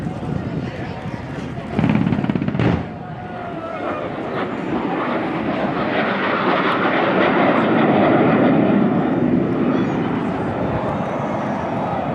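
An A-37 Dragonfly attack jet roars loudly through an airshow demonstration pass, its engine noise swelling and holding steady, with a sharp burst near the start and a commentator talking over the sound.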